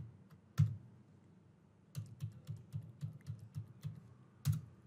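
A mobile number being typed on a computer keyboard: a quiet, close burst of evenly spaced key clicks with a couple of firmer taps at the start and end.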